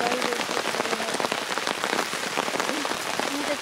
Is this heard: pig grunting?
no